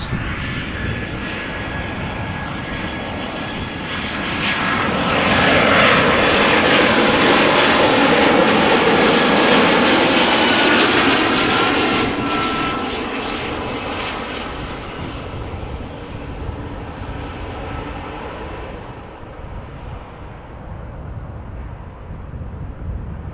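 A 14-year-old airliner on arrival from London Luton roars overhead at Amsterdam Schiphol Airport, its loud, broad engine noise swelling to a peak, then slowly fading as it passes, with no talking.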